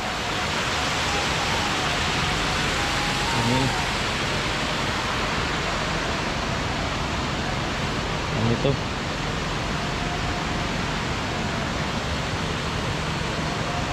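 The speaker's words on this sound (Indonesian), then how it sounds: "Ini sepertinya ada aliran anak sungai." Steady broadband rush of a small stream flowing beside a road under construction toward Alahan Panjang, continuous and fairly loud, with brief speech over it.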